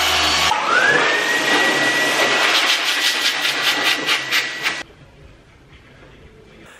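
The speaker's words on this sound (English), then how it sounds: "you've seen me previously use the vehicle blower that I blow the vehicle dry with" A vehicle blower drying a car roars with a loud, steady broadband rush and a rising whine, then cuts off abruptly, leaving a quiet room tone; a voice speaks briefly.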